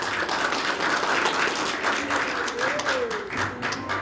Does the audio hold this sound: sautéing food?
no